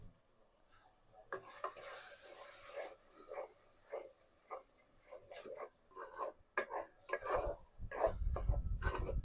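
Ground small onions and tomato paste are sautéed in a pan, with a soft sizzle under repeated scraping strokes of a spoon, quiet and close, growing busier toward the end.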